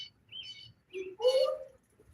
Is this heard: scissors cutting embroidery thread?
no